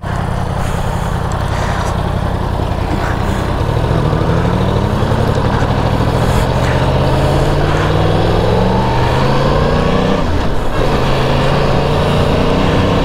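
Yamaha R1 sport motorcycle ridden at speed, its engine droning loudly and steadily throughout with rising and falling pitch sweeps as it accelerates and shifts, wind noise layered over the exhaust.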